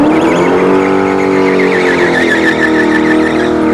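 Drag racing cars thunder down the strip at ShowTime Dragstrip, a loud, continuous engine roar with a warbling high whine, close and dominant throughout, a brief voice barely showing.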